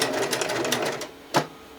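A domestic sewing machine stitches a zigzag seam, running forward in a steady rapid whir before a short pause and a brief burst as it reverses, close and moderately quiet with no voices.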